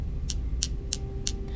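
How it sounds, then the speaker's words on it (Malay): Glass pieces clink against glass in a room: four short, bright taps spaced about a third of a second apart, near but fairly soft, over a low steady hum. "Dia bunyi macam ni tau."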